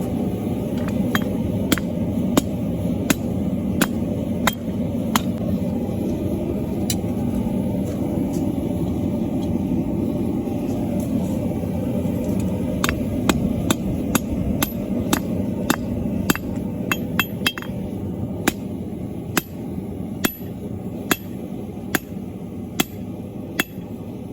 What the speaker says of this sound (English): I'm going to use my heaviest hammer in the midsection right there where I'm drawing out the blade.